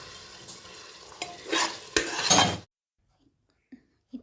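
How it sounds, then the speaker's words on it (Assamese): Peas for vegetable pulao being stirred and fried in a pan: close scraping stirs and sizzling bursts for about two and a half seconds, then abrupt near-silence broken by a couple of faint knocks. "এতিয়া মই আকৌ মটৰখিনি 5 মিনিটমান ভাজি ল'ম ভালদৰে।"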